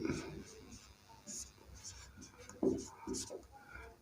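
Chalk or marker scratches across a board during a physics lesson, producing short, intermittent scraping strokes in quick bursts, faint and close, with a teacher speaking in between.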